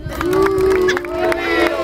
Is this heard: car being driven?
no